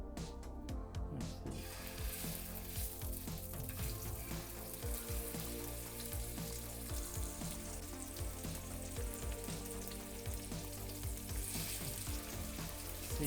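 Beef searing in a cast iron pot for boeuf bourguignon, a continuous crackling sizzle with irregular pops and spits, steady and close, no voices.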